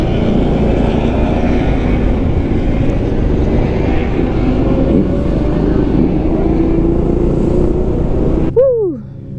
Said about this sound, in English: they already got bikes back on the track.